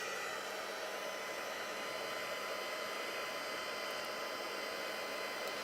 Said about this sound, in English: And then I'm just going to dry with my heat tool.